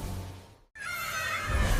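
Horses neigh in a storybook sound effect: a loud whinny, a brief silent gap, then a second bright, quavering neigh that swells toward the end.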